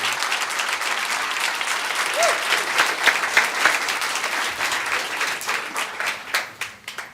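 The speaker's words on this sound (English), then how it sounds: "Look, they're all clapping for you." Audience at a Sunday church service claps in sustained, fairly loud applause that tapers off toward the end, with a faint voice briefly audible underneath.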